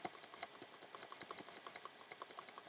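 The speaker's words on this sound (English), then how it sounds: "You can probably hear me clicking away because instead of using my trackpad" A plug-in computer mouse clicks rapidly and repeatedly, with sharp, evenly spaced clicks in a quick run, close and quiet, with no talking over them.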